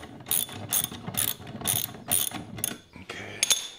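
A ratchet clicks in quick repeated strokes while bolts are snugged on a Yard star spreader assembly, six or so close, crisp bursts of pawl clatter with brief pauses between them.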